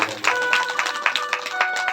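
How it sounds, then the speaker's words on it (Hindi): Audience applause at a Shri Shiv Mahapuran katha, a Hindu religious discourse gathering, in steady, fairly loud rapid claps that continue for about two seconds with a faint tonal hum running underneath. "इनके लिए भी जबरदस्त तालियां, जोरदार तालियां"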